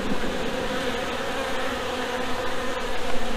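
Honeybees buzzing around a hive on a farm, a steady close drone of many insects with no voices.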